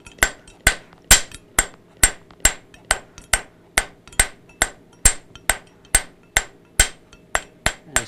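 A hammer strikes hot iron on an anvil to taper its end, in a steady rhythm of about two sharp ringing blows each second, loud and close, with no talking.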